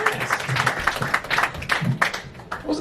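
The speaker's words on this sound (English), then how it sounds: "Give yourselves a round of applause." A small comedy show audience at the Edinburgh Fringe claps for itself, a thin, uneven patter of hands that stays moderately quiet and scattered for a few seconds.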